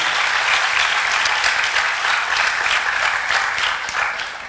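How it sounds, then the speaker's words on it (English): An audience at a school moving-up ceremony claps for its graduates: loud, dense, steady applause from a crowd that fades slightly toward the end. "Can we give our graduates a big round of applause?"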